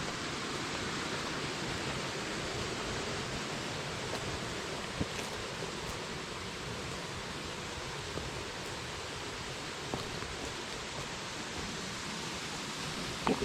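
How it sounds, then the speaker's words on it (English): A waterfall along the Tonto Creek trail gives off a constant, even roar of falling water, fairly quiet and unbroken for the whole stretch. "Where there's a waterfall."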